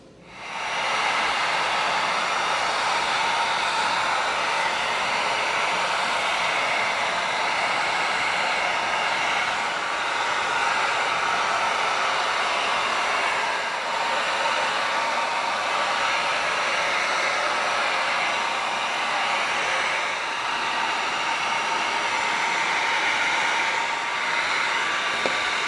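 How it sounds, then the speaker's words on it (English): A heat gun blows hot air to heat-seal EVA foam on a shield prop, a loud, close, steady roaring hiss that starts abruptly and runs unbroken for about 25 seconds, with no voices. "we are going to heat seal the front of it because we want to tighten up all the foam"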